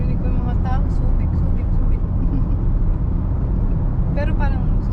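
Road traffic around a moving car on a drive from Bulacan to Zambales in the Philippines, a constant low engine and road rumble with brief horn-like tones, while people talk over it.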